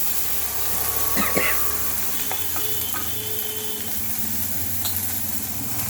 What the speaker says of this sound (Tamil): இஞ்சி நறுக்கி வச்சுருக்கிற இஞ்சி இந்த வெங்காயம் இதெல்லாம் போட்டு வதக்கிறோம்